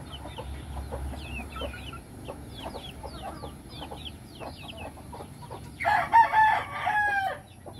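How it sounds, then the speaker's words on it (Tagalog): Hens and chicks on a farm, with steady close clucking and high peeping chirps; a louder burst of hen calls rises near the end. "Kasi yung mga inahin natin ay puro na naglilimlim at saka may mga sisiw"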